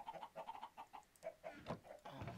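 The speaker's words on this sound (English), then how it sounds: "hush chickens" Chickens clucking in short, repeated bursts close by, a steady run of calls with some rustling noise beneath and no talk.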